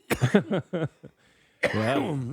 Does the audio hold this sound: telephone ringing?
no